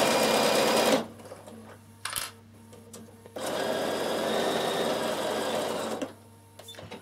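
A Bernina sewing machine stitches along the edge of linen dress fabric in two steady, close whirring runs, the first about a second long and the second about three seconds, separated by quiet pauses with faint clicks.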